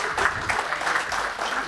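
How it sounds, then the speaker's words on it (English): A short burst of audience applause at a conference as the Sa-Dhan chairman is called to the stage, a brief dense patter of clapping at moderate volume. "Please give him a big round of applause"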